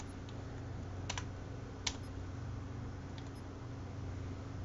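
Computer keyboard keys are pressed while setting firing groups in MechWarrior Online, a few sharp separate clicks spread out over a steady low background hum.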